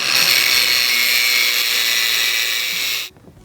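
A power saw cuts through a 10-foot metal scaffolding pole in a budget DIY workshop, giving a loud, steady, hissing whine for about three seconds before it stops abruptly.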